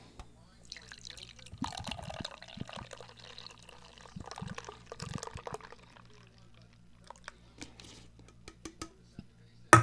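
Liquid poured into a glass, a close gurgling stream with drips that starts and stops over several seconds, with a voice speaking now and then and a low steady hum underneath.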